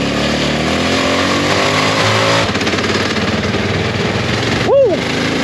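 A 1996 Honda NX650 Dominator single-cylinder trail bike pulls hard in fifth gear above 90 km/h, its engine drone loud and steady under wind roar, closing with a brief whooshing swell.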